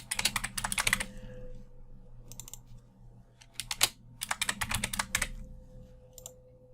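Quick bursts of typing on a computer keyboard while entering values into spreadsheet cells, crisp close key clicks in clusters separated by short quiet gaps.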